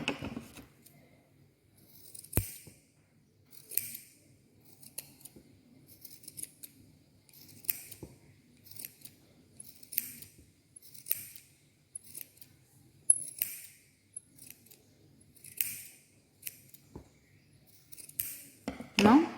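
Scissors snip off extra thread while a rakhi is being made, giving a steady series of about a dozen crisp, close cuts at a regular rhythm, with quiet pauses between them.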